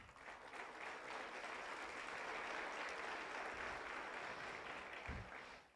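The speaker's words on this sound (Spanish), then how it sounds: "Dale palmas al Señor." A church congregation claps together during a sermon, a steady dense wash of hand claps holding evenly for several seconds before tapering off, moderately distant.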